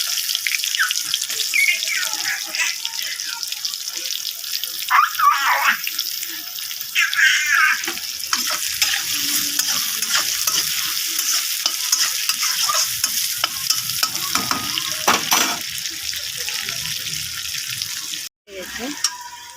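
Onions dropped into hot oil for a Bengali fish curry, just after the fried fish is lifted out. A steady bright sizzle of frying runs the whole way, with stirring and clattering on top and a brief gap near the end.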